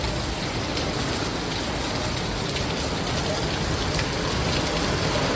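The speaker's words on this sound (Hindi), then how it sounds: "इतनी तेज बारिश हो रही है।" Heavy rain pouring down during a strong storm, a loud, dense, unbroken hiss of water drumming on surfaces at close range, steady throughout with no breaks.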